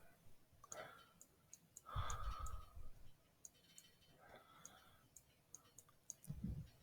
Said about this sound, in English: I'm drawing with the mouse.